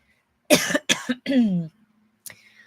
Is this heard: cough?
yes